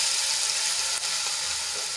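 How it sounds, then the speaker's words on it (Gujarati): Ginger, garlic and chili paste hitting hot oil with toasted cumin and asafoetida, giving a loud, steady hiss of sizzling with a brief stir near the middle. "તો એમાં 1 ચમચી આદુ લસણ અને મરચાની પેસ્ટ એડ કરીશું."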